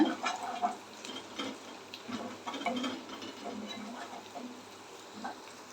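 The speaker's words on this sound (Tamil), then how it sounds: "பூண்டு வந்து தட்டி சேர்த்துருக்கேன் ஒரு பத்து பல் பூண்டு வந்து நான் தட்டி சேர்த்துருக்கேன் இதையும் கொஞ்சம் நல்லா வதக்கி விடுங்க" About ten cloves of crushed garlic sauté in a pan for an egg curry masala, with quiet sizzling crackles and soft scraping of stirring, faint and close, with no voices over it.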